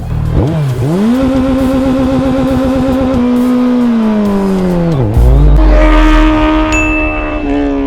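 A 2024 Suzuki Hayabusa with dual exhaust launching hard under launch control, its engine note sweeping up through rising revs, dipping briefly at a gear change and climbing again, loud and close throughout.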